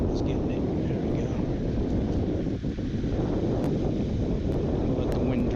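Steady wind rumbles and buffets the microphone at a pond during bass fly fishing, a constant close roar with a few faint ticks over it.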